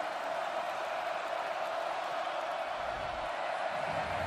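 A large stadium crowd at Kinnick Stadium during an Iowa vs. Minnesota football game gets rowdy, a steady, dense roar of many voices holding at an even level throughout.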